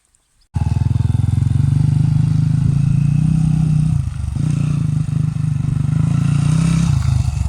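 A trail motorcycle ridden around off-road, its engine starting abruptly into a loud steady drone with brief dips and throttle changes, close and continuous without talking.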